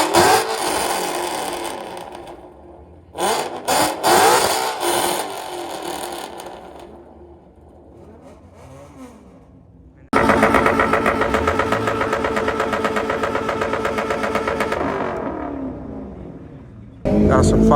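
A 2004 Pontiac GTO with a drive-by-cable throttle revs loudly nearby in short bursts, then drops to a lower rumble before a long, sustained high rev. Voices talk over parts of it.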